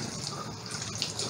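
Lid of a multipurpose electric cooker rinsed under a running tap in a kitchen sink, a brief steady close hiss of water spraying and splashing, heard alone.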